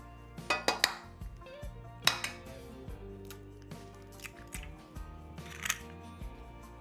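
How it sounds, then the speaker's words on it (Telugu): Four eggs beaten in a bowl for homemade chocolate brownie batter, heard as quiet, irregular bursts of clinking and tapping against the bowl, close by and without talk. "4 eggs వేసి మంచిగా బీట్ చేస్తున్నాం"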